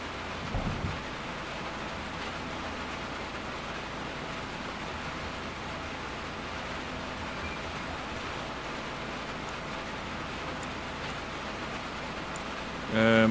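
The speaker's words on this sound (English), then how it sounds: "The rain is so loud in here" Steady, dense rain drumming on a locomotive cab's metal roof overhead in the Derail Valley video game, a constant loud wash of noise with no pauses, briefly louder at the very end.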